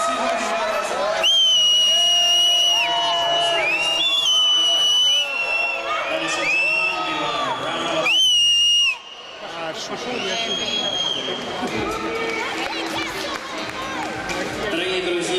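A crowd at a junior world championship and World Cup acrobatic rock'n'roll event in Sochi cheers, whoops and shouts loudly for the athletes, a sustained roar with a brief dip, while an announcer speaks over it.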